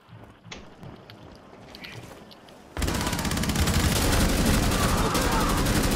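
Gunfire from the video game Rainbow Six Siege starts with scattered, quieter shots, then breaks into a loud, continuous volley of rapid fire. A voice talks briefly in the background.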